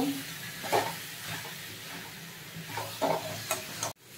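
Fried pointed gourd and potato being sautéed with spices in a pan, a soft low sizzle with a few scraping stirs of a spoon, close and quiet, ending in a sharp knock.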